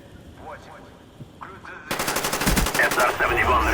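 Rapid submachine gun fire from Call of Duty Black Ops, loud sustained automatic bursts in the second half after a quieter stretch of game sounds, with faint voice.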